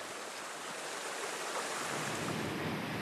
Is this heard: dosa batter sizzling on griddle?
no